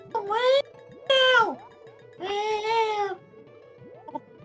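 A person's voice imitates a classic stock cat meow from a Donkey Kong Country 2 game, giving three drawn-out, nasal meowing calls close to the microphone, followed by a brief small sound.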